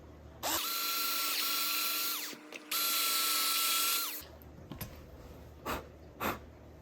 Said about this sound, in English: We're going to let the holes that are already there guide the drill.